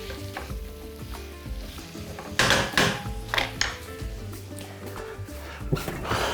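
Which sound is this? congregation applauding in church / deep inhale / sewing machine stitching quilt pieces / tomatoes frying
tomatoes frying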